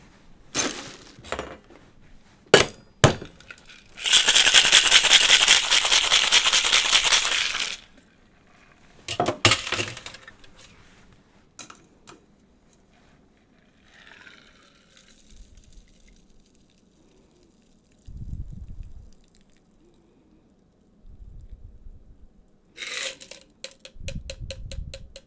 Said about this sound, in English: I'm going to ice and shake these one at a time